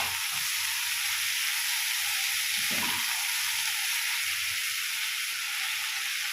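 Egg and chopped tomatoes sizzle steadily in a hot pan while Hakka noodles are being fried, a continuous loud hiss of frying with a brief stir partway through and no talking.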